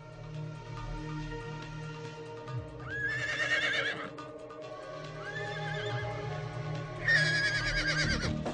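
Horses neigh loudly in a rising whinny near three seconds and again near seven, over a steady rumble of hoofbeats and riding noise in an ancient Egyptian war setting.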